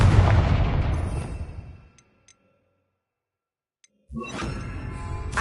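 The Confringo spell is cast in Hogwarts Legacy, heard as a loud booming blast that decays over about two seconds, then near silence with faint ticks before another heavy rumbling burst begins.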